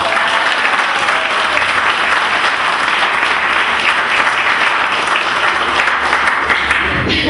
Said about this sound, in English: Let's give them a clap and leave.